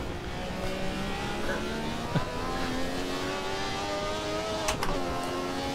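Ferrari 312T Formula One race car engine in Assetto Corsa at Imola, a steady high-pitched racing engine drone with rising harmonic pitch as it accelerates, brief gear-shift dips, loud and continuous with no talking.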